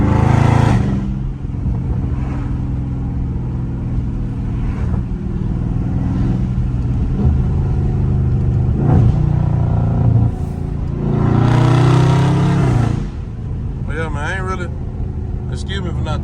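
A Dodge Scat Pack in sport mode pulls hard from inside the cabin, its deep engine droning loud and close and rising in a couple of strong revving surges, with voices talking over it.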